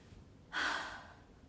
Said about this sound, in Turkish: Derin bir nefes alıyorsun.